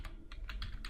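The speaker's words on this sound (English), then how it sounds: "You type in git space config" Several quick key presses on a computer keyboard, a short run of close, crisp clicks while typing a git config command.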